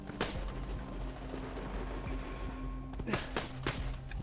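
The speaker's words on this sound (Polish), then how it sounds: "Znalazłem pistolet fioletowy. Z podpaleniem. Strzela razy dwa." Purple incendiary pistol firing in Borderlands 2, a handful of sharp gunshots spaced irregularly over a steady low background hum, fairly quiet, with no talking.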